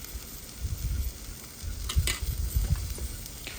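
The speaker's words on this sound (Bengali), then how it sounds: "পেঁয়াজ কাঁচামরিচ দিয়ে লাল লাল করে বেজে তারপরে আলুগুলো দিয়ে দিছি" Potatoes frying in a pan with onion and green chili, a continuous sizzle with scraping stirring strokes at an uneven pace, close and moderately loud with no voices.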